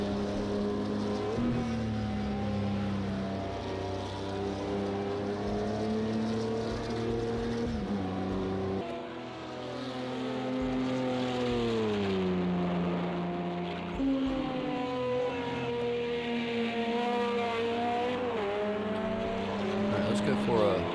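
LMP1 race car engines in the Project Cars video game at Silverstone whine and drone continuously, with rising and falling pitch through gear changes. Loud and close throughout, with engine tones sweeping as cars accelerate and brake.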